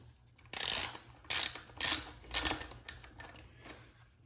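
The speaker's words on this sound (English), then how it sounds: "So I've got two nuts here that I need to loosen" A ratchet wrench loosening the bar nuts on a Garwinner 6220G chainsaw, several close, bursty clicking ratchet strokes in quick succession, loud and alone.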